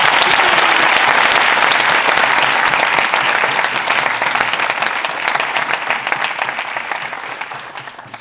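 An audience at a formal debate applauds in a loud, sustained burst of dense clapping that fills the whole stretch and only slowly thins toward the end.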